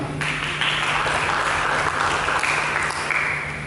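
Steady applause from a church congregation during an Indonesian Sunday sermon, a dense clapping wash of even loudness throughout, with no voices over it.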